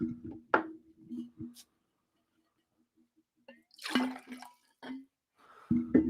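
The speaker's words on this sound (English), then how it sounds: "That was a fast pour." Water pours quickly into a glass indoors, a few short splashy gurgles near the mic, then a pause with faint drips and a brief trickle at the end.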